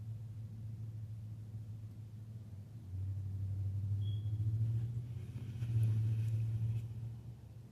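A vehicle drives in circles somewhere distant, giving off a low engine rumble that swells and fades as it passes around. No one speaks.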